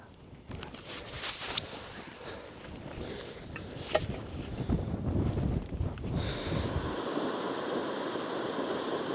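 Gusty wind buffets the microphone on a fell above Ullswater, a steady roaring rush with a few sharper gusts and no talk.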